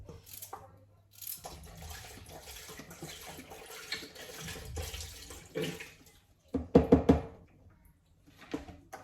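Tap water runs into a small pot for boiling eggs in a home kitchen, a steady hiss with knocks and clatter as the pot shifts, then a louder burst of splashing toward the end.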